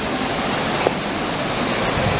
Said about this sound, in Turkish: esas şelalenin döküm yeri burası